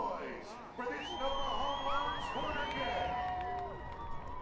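Football stadium crowd at an FC Tucson versus Fort Lauderdale CF match roaring and cheering after a shot hits the bar, a swelling mass of voices with whistles and whoops, under a commentator's talk.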